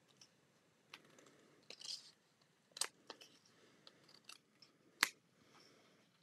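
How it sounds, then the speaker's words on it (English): Scissors snip the edges off a paper square for scrapbooking: a handful of short, crisp cuts spaced irregularly across a quiet background, close and fairly soft. "take the scissors, just chop those edges off"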